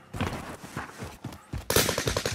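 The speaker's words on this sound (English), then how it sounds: "Taking heavy fire." Gunfire in the video game Warzone sounds in close, rapid bursts of shots, a quick stuttering rattle that grows denser and louder toward the end.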